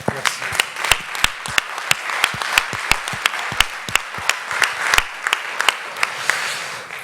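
Audience members in a hall applaud technology teachers at an engineering conference, with sharp, distinct claps standing out in an uneven, fairly sparse rhythm. The sound is loud and close.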